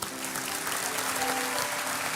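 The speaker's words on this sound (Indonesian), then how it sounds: "Berikan tepuk tangan untuk Tuhan." A church congregation applauds during a sermon, with dense sustained clapping from many hands filling the room, steady and loud throughout and no voices on top.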